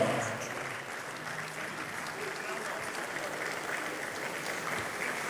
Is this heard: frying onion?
no